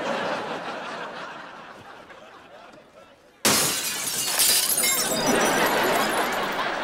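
A basketball smashes through a window with a sudden loud crash of breaking glass after a quieter build-up, leaving bright scattered shards and noisy commotion ringing afterward.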